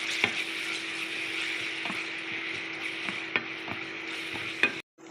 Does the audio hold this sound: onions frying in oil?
yes